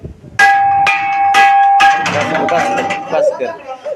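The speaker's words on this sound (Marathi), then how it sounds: "ही लोखंडाची घंटी आहे आणि हिचा आवाज जास्त नाही वाजवून दाखवण्याचा प्रयत्न करतो" An iron hand bell at a village school is struck several times in quick succession, each ring bright and clanging, its tone lingering and fading toward the end.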